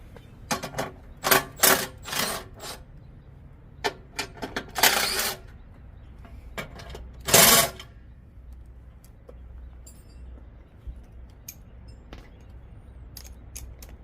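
A socket wrench works the three 13mm nuts on the cover of a Billy Goat PR550-H power rake. It gives bursts of quick metallic ratcheting clicks separated by pauses, close and fairly loud, with no talking.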